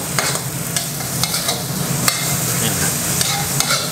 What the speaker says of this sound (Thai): ผัดให้กะเพรามันสลดนิดนึงนะครับ